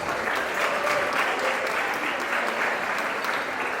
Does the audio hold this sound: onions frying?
no